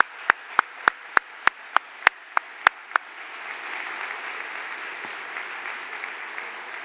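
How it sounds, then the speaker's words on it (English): Applause for new faculty at a 2017 academic convocation: about ten sharp, evenly spaced claps ring out close by, then give way to a softer, steady wash of audience clapping. "Let's have a round of applause for the new faculty."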